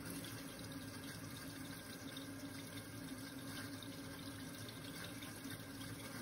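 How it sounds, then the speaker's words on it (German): Cold tap water runs steadily over a glass bottle to cool it, a faint continuous splashing hiss with no break and no voices. "Die Flasche kühlen wir jetzt mit kaltem Wasser ab."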